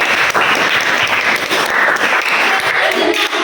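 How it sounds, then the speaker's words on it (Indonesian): A class of tenth-grade students applauds in a classroom, a steady, loud wash of many hands clapping that continues throughout without pause. "Oke, berilah tepuk tangan deh."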